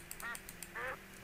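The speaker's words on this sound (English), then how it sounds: "Stupid duck." A duck in a modded Minecraft world gives two short nasal quacks, one after the other, fairly quiet against a faint steady background hum with no voices.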